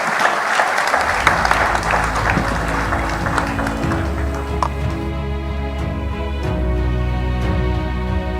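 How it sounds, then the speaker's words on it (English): An audience applauds panelists at a business forum session, steady clapping from a room full of people that carries on for several seconds over a low hum of music. "A big round of applause for our panelists,"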